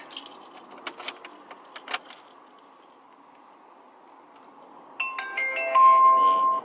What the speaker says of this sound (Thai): เห็นไหมครับอ่ะผมออนกุญแจนะ